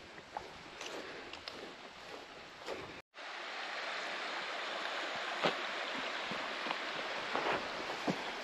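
Water of Trout Run Creek, a native trout stream in Whitewater State Park, Minnesota, rushing steadily along a wooded trail, a broad continuous wash heard alone with a brief dropout partway through.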